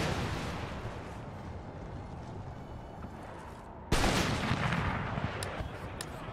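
Musket volleys in the video game Empire: Total War form a dense, distant rumble of massed gunfire that continues throughout, with a sharper, louder burst of shots about two-thirds of the way in.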